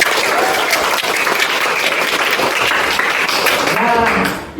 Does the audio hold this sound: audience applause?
yes